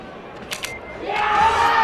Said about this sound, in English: you hear a big roar from the crowd